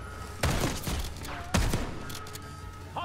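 Two heavy shotgun blasts boom out at about half a second and again near 1.5 seconds in the Black Ops 6 campaign, each followed by a ringing decay over steady game ambience.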